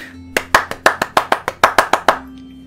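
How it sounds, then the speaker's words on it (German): Hand clapping in a German video-game playthrough, about a dozen sharp claps in a quick, slightly uneven rhythm, close and loud, with no talk. "Applaus bitte."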